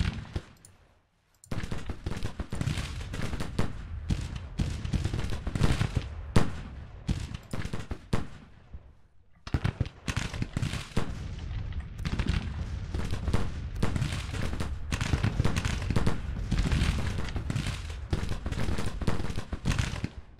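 Civil War brigades shooting in the strategy game Grand Tactician: The Civil War, rolling musket volleys and crackling rifle fire in dense, continuous bursts, loud and near, with a short silence near the start and a brief dip midway.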